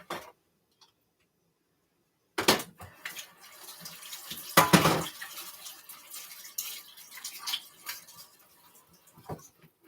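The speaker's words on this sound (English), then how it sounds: "And just let me wash my hands." Water runs from a kitchen tap in uneven bursts as hands are washed and rubbed underneath, close by, starting after a quiet pause and fading toward the end.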